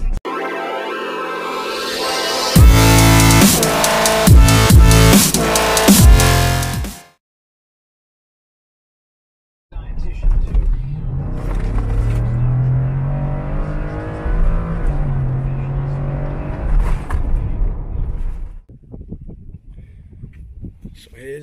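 A 2018 Ford F150 with a swapped 18 GT exhaust manifold revs and accelerates hard, loud and close, then cuts to silence before a second stretch of engine and road noise with rising pitch.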